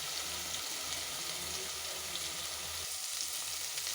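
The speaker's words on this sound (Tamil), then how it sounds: "தக்காளியும் அரைச்சி சேர்த்துக்குங்க. இப்போ இதை நல்லா வதங்கி வரட்டும்" A close, steady frying sizzle comes from onion and ground tomato cooking in oil for a fish curry, loud and continuous with light stirring and no voices.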